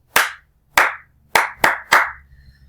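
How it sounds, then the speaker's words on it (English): A teacher claps an attention-getting rhythm: five sharp, close hand claps, two spaced apart, then three quicker ones in a row, with no talking over them. "And when I clap it, it sounds like this."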